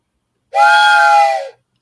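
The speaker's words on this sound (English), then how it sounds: "Did you know this is the official Martian Christmas whistle that I've been using for years?" A novelty whistle, billed as a Martian Christmas whistle, gives one steady, loud, reedy blast of about a second that trails off slightly at the end, heard alone with no talk.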